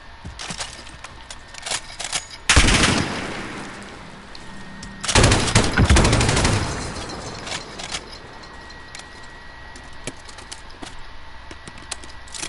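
Bursts of automatic gunfire from a Modern Warfare video game, two loud heavy volleys with lighter scattered shots and background game noise between them.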